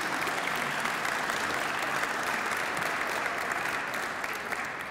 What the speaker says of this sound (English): Thank you so much for your generous applause